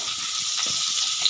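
Potatoes dropped into hot oil with spices, a short bright sizzle and hiss, close and steady.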